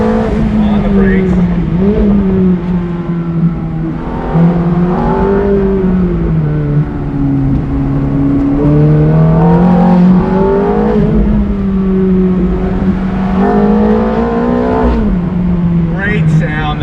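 A 2005 Ferrari F430 Spider engine pulls hard and loud from inside the cabin, its steady harmonic drone rising and falling through the gears across the whole stretch.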